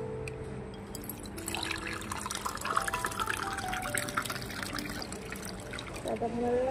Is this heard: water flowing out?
yes